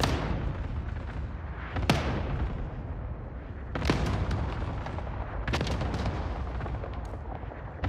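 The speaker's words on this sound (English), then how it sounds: "Allied cluster strike inbound." Cluster strike explosions in Call of Duty Warzone, a rumbling barrage with three sharp, heavy blasts standing out over continuous booming, moderately loud and sustained.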